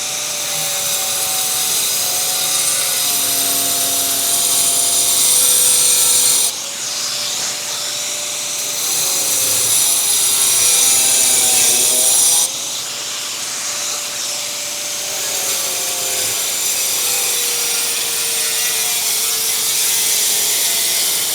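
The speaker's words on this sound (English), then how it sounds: "I should have a guard on this grinder too" An angle grinder fitted with a Pearl P4 blade cuts tile at 10,000 RPM, a loud, steady, high whine with a couple of brief dips in load, close by and with no talk over it.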